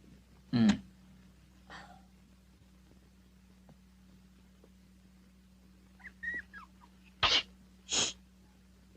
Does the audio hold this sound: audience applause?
no